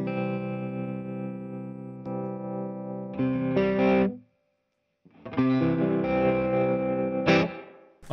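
Sustained electric guitar chords with a pulsing, wavering volume effect and distortion, interrupted by a brief silence before the playing resumes.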